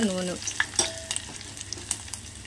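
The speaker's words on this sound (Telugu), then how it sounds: "తాలింపు గింజలు కూడా చిట్పట్ అంటున్నాయి." Tempering seeds and curry leaves splutter in hot oil for a dal with munaga leaves, giving sharp scattered pops and crackles over a soft sizzle, with a brief metallic stir near the start.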